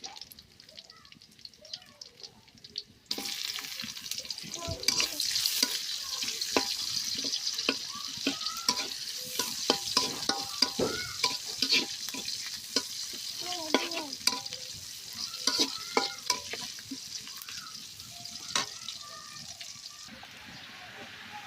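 Tender onion greens hit a hot pan in a village kitchen and sizzle steadily while a utensil stirs and scrapes them in repeated strokes, close by, with quieter stretches before and after.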